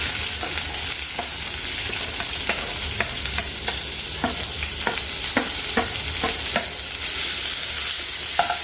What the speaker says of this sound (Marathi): तेल थोडंसं हलकं फुलकं गरम असताना यामध्ये जिरं टाकायचं कढीपत्त्याची पाच सहा पानं टाकते आणि यामध्ये कांदा टाकते